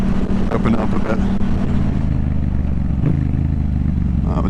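A Yamaha MT-07 motorcycle on an open road roars loudly as the rider opens it up, a dense engine drone with wind rush and no clear talking.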